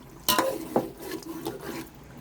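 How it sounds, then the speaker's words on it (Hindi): Mutton pieces being stir-fried with yogurt in a pot over a low flame for a mutton pulao, giving a few scraping, stirring strokes with soft sizzling between them, fairly close. "अब दही को हम डाल के थोड़ी देर और गोश्त को भून लेते हैं।"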